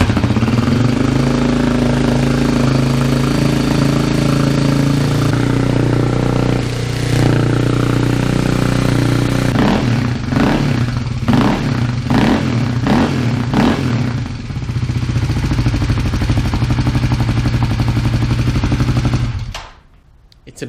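A Kawasaki KLX250S dirt bike fitted with an FMF Q4 exhaust fires up and idles loudly, then gives a series of sharp blips of the throttle before the engine cuts off abruptly near the end.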